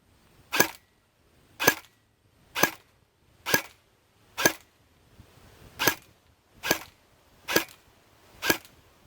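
A Cyma 045C airsoft gun fires nine sharp, evenly spaced shots about one second apart, each a crisp close crack with quiet pauses in between.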